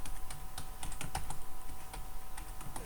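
Fast, steady clicking of computer keyboard keys as someone types code, close and moderately quiet, with irregular rapid keystrokes and no talking.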